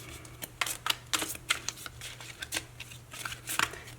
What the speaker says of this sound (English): These are hard to shuffle because there's so many.